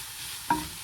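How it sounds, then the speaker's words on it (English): Onion and garlic drop into hot oil in an enamel cast iron pan, giving one short sizzling burst that fades over a quiet background. "I'm going to add in the onion, and I'm going to add in the garlic, and we're just going to let that fry off for a little bit"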